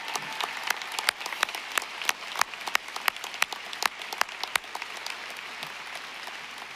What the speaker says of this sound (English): a big round of applause for you for all the support of your students